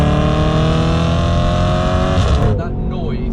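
An Audi RS5 engine revs hard under acceleration, a loud, close, continuous roar that climbs steadily in pitch before easing off near the end.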